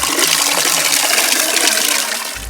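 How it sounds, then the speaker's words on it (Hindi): Natural spring water pours steadily from a stone gomukh spout at the Keshavraj temple in a forest near Dapoli, a loud, continuous close splashing rush with no talk. "इस गोमुख से निकलने वाली प्राकृतिक धारा पहाड़ी की चोटी पर आम के तने के पास झरने से आती है।"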